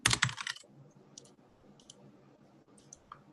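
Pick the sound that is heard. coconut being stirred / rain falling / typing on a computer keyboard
typing on a computer keyboard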